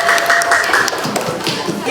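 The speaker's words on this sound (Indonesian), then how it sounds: "Mohon tepuk tangannya kawan-kawan semua." Students in a classroom clap for a group presentation, a steady patter of hand claps filling the space, with some voices mixed in.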